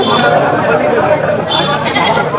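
Goats, including mother goats with kids, and sheep bleat repeatedly amid a busy crowd at Barobazar livestock market, with someone talking steadily over the constant background chatter.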